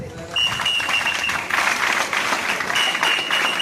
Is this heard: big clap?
yes